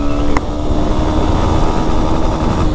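A Honda Hornet 2.0 motorcycle accelerating through its gears on a highway, the engine droning loud and steady under heavy wind rush, with a short tick early on.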